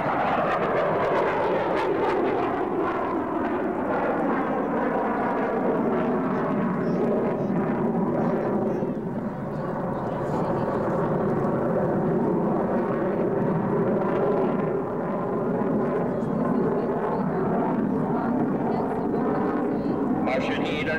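A Super Hornet jet flies a slow-speed, high-alpha pass at the Kern County airshow, a sustained loud roaring whine that swells and shifts in pitch for the full twenty seconds, with an announcer talking over it.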